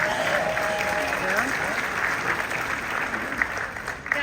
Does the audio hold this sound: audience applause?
yes